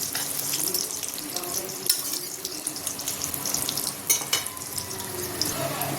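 Potato and pumpkin dumplings fry in oil with a soft, continuous crackle and bubbling, broken by a few sharp clinks and scrapes, moderately quiet and with no talking.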